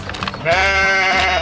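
A sheep lets out one loud, drawn-out bleat with a wavering, quivering tone, coming right after a brief stretch of softer scuffling noise.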